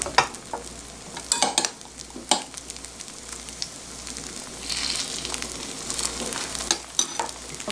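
Zucchini pancakes (hobak-jeon) frying in a pan, a soft, steady sizzle broken by scraping and tapping of a utensil against the pan, close by with no voices.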